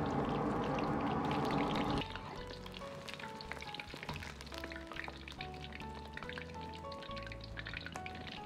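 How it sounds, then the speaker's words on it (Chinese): Eggs deep-frying in hot oil in a wok over medium heat, a steady bubbling sizzle with soft clinks and scrapes as they are stirred, after a louder burst of frying at the start. "保持中火炸至大概2分钟左右，把鸡蛋炸至颜色黄亮，表面冒均匀的小泡泡就可以了。"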